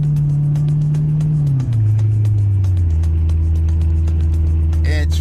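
A repaired and repainted G-body Oldsmobile Cutlass rolls through traffic: a loud, steady low engine drone whose pitch drops and settles. A brief higher clatter comes near the end.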